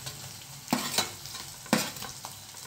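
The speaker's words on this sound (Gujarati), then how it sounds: "હવે એમાં હું બટેકા નાખું છું." Potatoes tipped into a hot pan of onions and chillies for a Gujarati cabbage-potato curry, giving a steady close sizzle broken by two louder bursts of stirring and scraping, with no talk.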